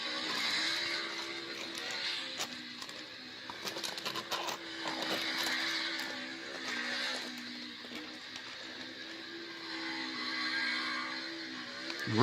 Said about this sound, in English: Really burning that rubber.